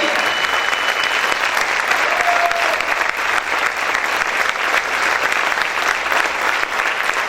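A whole congregation keeps clapping during a church service, a continuous crackling wall of applause filling the room, steady and loud throughout, with a brief sung or called note near the start.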